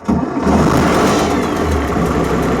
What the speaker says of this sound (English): that's it, simple as that to start the vehicle